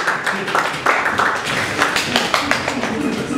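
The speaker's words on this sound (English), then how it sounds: "Big round of applause for you." Applause and clapping from a live audience at a 2017 Pride festival stage event, a dense crackle of many hands sustained throughout, with talking over it.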